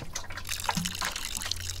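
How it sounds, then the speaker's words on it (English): Water poured onto a Brook Chalice plant in the video game Botany Manor: a few light drips and small liquid plops over a steady low hum, fairly quiet and close. "Let's water it."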